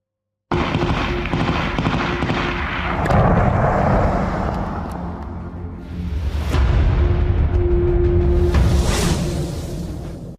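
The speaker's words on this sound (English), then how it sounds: "This is how spectacularly a Shahed warehouse detonated this week at the Donetsk airfield." Explosions from a Shahed drone warehouse detonating at the Donetsk airfield: a loud, sustained roar of blasts and crackling secondary detonations with sharp pops, continuous for about ten seconds and heard from a distance.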